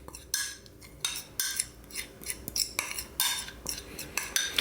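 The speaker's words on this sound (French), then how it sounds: "dans mon récipient, je verse mon chocolat fondu" Melted white chocolate poured into a bowl for gluten-free cookies, heard as scraping and clinking of a utensil against the bowl, with irregular bursts of close kitchen handling noise.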